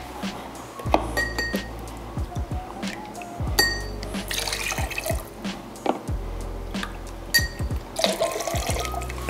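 Apple juice pours into a glass for a smoked cinnamon cocktail, heard close up as a series of short liquid splashes and trickles with light glass clinks between them and no talking.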